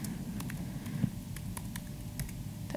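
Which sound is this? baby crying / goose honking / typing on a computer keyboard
typing on a computer keyboard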